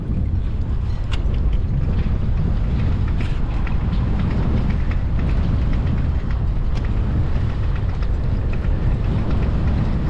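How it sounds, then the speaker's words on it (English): A sailboat's engine runs steadily in strong wind, a continuous low rumble with wind buffeting the microphone throughout, and no voices. "just started the engine."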